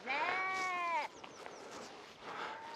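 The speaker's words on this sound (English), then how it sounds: "these sheep are going mad this morning" Sheep bleat loudly on a Northamptonshire countryside morning walk, one long wavering cry up close followed by quieter, more distant bleats against open-air background.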